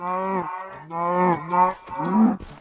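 A Minecraft cow moos several times in quick succession, loud and close with drawn-out, tonal lows, alone without talk.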